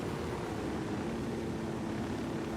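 An aircraft flying in the game Tom Clancy's Ghost Recon Wildlands gives a steady, fairly quiet engine drone with a low hum beneath broadband noise, unbroken for the whole stretch with no talking.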